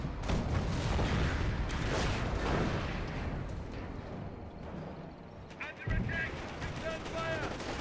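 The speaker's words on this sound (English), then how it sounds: "AT gun shots up here." Anti-tank gun shots and battle gunfire from a Company of Heroes match, dense overlapping booms and cracks under continuous game noise, with a few brief voice-like chirps near the end.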